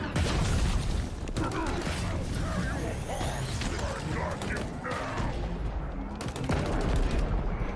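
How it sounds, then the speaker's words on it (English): Drop pods exploding in an Xbox showcase video game, heard as a loud, dense wash of crashing blasts and rattling mechanical clatter that continues throughout, with voices talking over it. "The drop pods explode."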